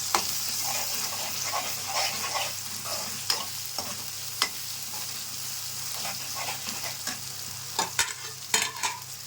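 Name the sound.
ginger garlic paste sizzling and stirred in pan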